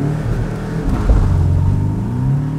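Engine of a 2017 Porsche 718 Boxster (982) convertible rumbling and revving up as the car pulls away in gear, a steady loud low drone that rises in pitch, close and alone without talk.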